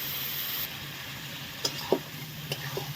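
Tomato paste, green chilli, ginger and onion paste sizzle steadily in a pan after fried potatoes, a soft continuous hiss broken by a few light utensil clicks.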